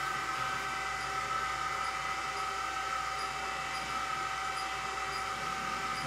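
An xTool D1 laser engraver runs through an engraving job, giving off a steady, even whirring hum with fan noise that holds at one level throughout.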